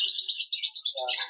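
Parrots at a crowded Faisalabad bird market, a brief burst of high, shrill chirps and squawks overlapping loudly and close by.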